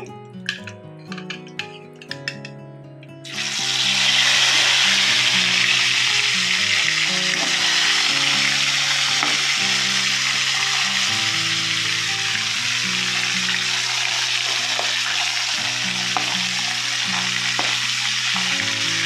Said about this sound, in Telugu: ఇప్పుడు ఎండు చేప ముక్కలు వేయించి తీసుకుందామండి